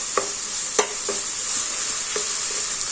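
Chicken stir-frying with soy sauce in a pan gives a steady bright sizzle, broken by a few sharp scrapes and taps of a utensil stirring the food.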